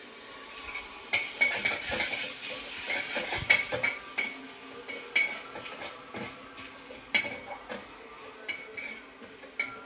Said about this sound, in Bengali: গোটা জিরে দিয়ে দেবো দিয়ে এতে রসুন কুচি দিয়ে দেবো